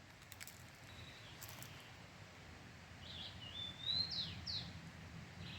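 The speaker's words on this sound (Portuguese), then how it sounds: "Olha só, gente, tico-tico." A rufous-collared sparrow sings on a farm in the morning, a few clear, slurred whistled notes from fairly close, above a quiet rural background with faint distant chirps.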